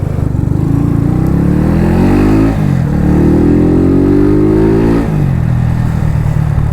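A Honda Fan 125 motorcycle fitted with a 14-tooth pinion revs close by, its engine climbing in pitch in two long pulls, each dropping off sharply before rising again, loud and alone.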